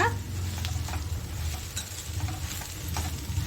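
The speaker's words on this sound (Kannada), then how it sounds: "ಇಷ್ಟನ್ನು ಹಾಕ್ಕೊಂಡು ಒಂದ್ಸಲ ನೀಟಾಗಿ ಮಿಕ್ಸ್ ಮಾಡ್ಕೊಳ್ಳೋಣ" Samosa filling masala is stirred in a pan, a spoon scraping and knocking at intervals over a continuous soft sizzle close by.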